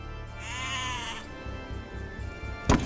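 Sheep bleat in the video game Age of Empires 2, one drawn-out wavering bleat heard clearly over a low in-game ambient bed, followed by a short sharp click.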